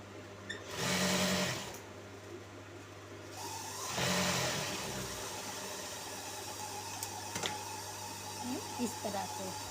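A sewing machine stitches a simple salwar in two short, loud runs of rapid whirring, the second a little longer, while a person talks nearby between and over the stitching.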